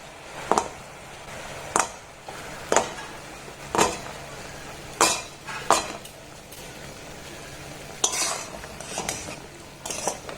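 Gulab jamun sweets made from wheat flour are dropped one by one into warm sugar syrup in a metal pan, giving about a dozen sharp clinks and splashes with short gaps between them.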